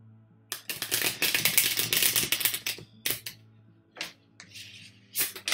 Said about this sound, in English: I'm gonna shuffle the cards.